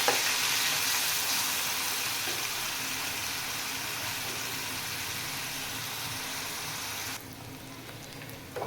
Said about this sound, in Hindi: इसको अच्छी तरह से ब्राउन होने तक पकाएंगे।